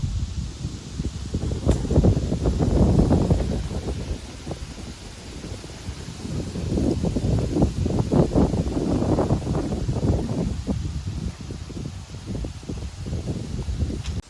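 Strong wind gusts buffet the microphone in waves, rising and easing over several seconds with a steady rushing hiss outdoors.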